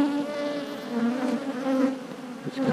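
Honeybees hum in a dense, continuous drone close by around a nuc hive, the buzzing swelling and fading slightly as individual bees pass.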